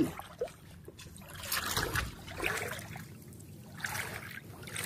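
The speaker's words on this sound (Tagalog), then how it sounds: "Maglalakad tayo sa tubig." Someone wades through water, with soft splashing and trickling sloshes rising and falling in uneven surges, fairly quiet and close.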